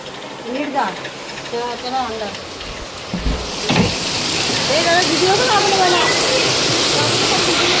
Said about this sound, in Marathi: पण बाहेर बघा एवढा पाऊस आहे तुम्हाला दाखवतो